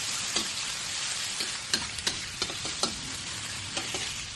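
Tomatoes hit a pan of sautéing garlic and onion for ginataang dilis, giving a steady close sizzle with scattered clinks and scrapes of a stirring spoon, no talk.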